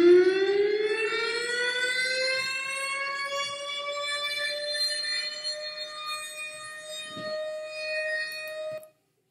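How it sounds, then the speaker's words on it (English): A tornado warning siren wails alone, its pitch rising at the start then holding a steady, loud, harmonic-rich tone for about nine seconds before cutting off abruptly. "let's hear the tornado siren."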